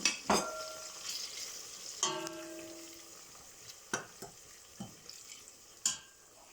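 Egusi is stirred in a pot on an electric cooker, with a soft sizzle and a series of distinct metallic scrapes and ringing knocks of a spoon against the pot, spaced a second or so apart, with no talking.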